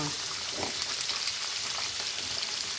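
Squash (kalabasa) frying in a pan as the first vegetable for ginataang gulay, giving a steady, close hiss and sizzle throughout with faint stirring scrapes and no talking.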